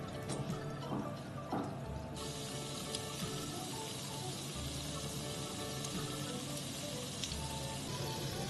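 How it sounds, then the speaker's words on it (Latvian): Dough doughnuts frying in a pot or pan of hot oil, giving a faint, steady sizzle and crackle with scattered small pops throughout. "Karstā eļļā cepšu."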